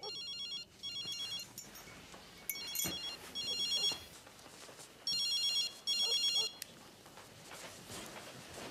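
A telephone rings in repeated bursts of bright electronic trills, each lasting under a second with short gaps between, set against a muffled background of low room noise.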